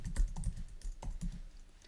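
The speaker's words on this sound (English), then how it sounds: "So now I'm gonna type silk," Fingers type on a computer keyboard at close range, a quick run of soft key clicks with short pauses between bursts and no talking.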